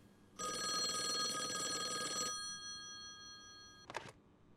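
Telephone ringing in the video game Call of the Elder Gods: one sustained electronic ring lasting about two seconds, then a short click-like burst, all fairly faint.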